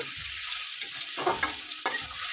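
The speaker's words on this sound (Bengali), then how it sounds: "লবণটা দিয়ে আমি বেশ কিছুক্ষণ নাড়াচাড়া করে নেব" Capsicum and beans stir-fried with salt in a pan for fried rice, a close sizzle with a few distinct spatula scrapes and tosses over a hiss.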